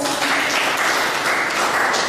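Crowd clapping at a Ghanaian community gathering in Tripoli, Libya, a steady, dense round of applause held at an even level, with faint voices mingled underneath.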